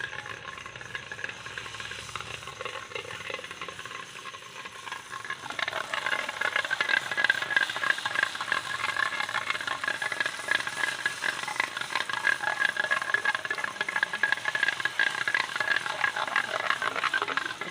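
Phuchka made from kneaded wheat dough fry in hot oil, a soft, steady crackling sizzle that swells after a few seconds and continues evenly, close by with no talk.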